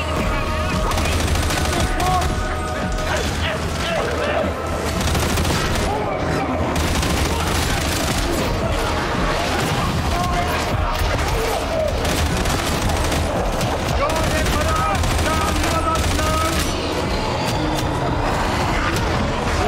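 Sniper and other gunfire in a video game, a dense and continuous barrage of shots and booms that stays loud throughout, with a voice talking over it.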